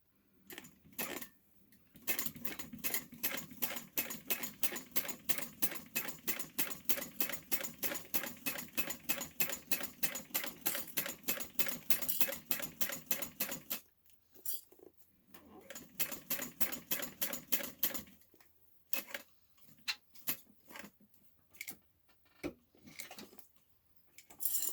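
A sewing machine stitches a Valora bag in steady rapid bursts of needle strokes, a long run, a brief pause, then a second run followed by a few slower, hesitant stitches near the end.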